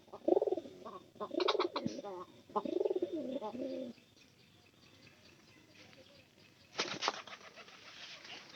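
Pigeons, including a lame one, coo in several close, rounded bursts, followed by a quieter stretch of rustling and a brief flurry that sounds like wing flapping.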